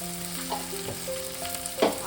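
Ground coriander, cumin and turmeric fry in a pan for a mushroom and potato curry, with a steady close sizzle and a few soft stirring scrapes, no voices.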